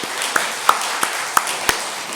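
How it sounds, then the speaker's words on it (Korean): A church congregation claps in a slow, regular rhythm of about five distinct unison claps over a faint roomy background. "하나님께 영광의 박수 돌려드리겠습니다"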